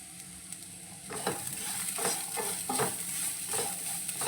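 Plantain (vazhakkai) poriyal being stirred in a pan after coconut powder goes in: repeated spoon scrapes and tosses land in an irregular rhythm over a light sizzle, close and moderately quiet, with no speech.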